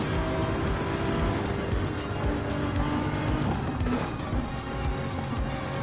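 Gran Turismo 7 race cars on the Nürburgring during a World Touring Car 800 endurance race, engines roaring loudly and continuously with tyre squeal as cars jostle and overtake, no voices.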